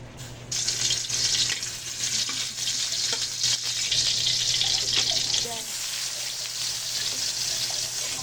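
Cooking oil goes into a hot pan to sauté vegetables for ginataang pechay with squash blossoms, giving a steady close hiss and sizzle that runs almost without pause.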